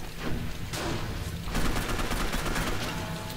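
Rapid bursts of gunfire from a weapon in the video game Gotham City Impostors keep up a dense, continuous crackle over busy game noise.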